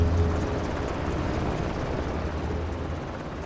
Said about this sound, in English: he was trying to fly for the helicopter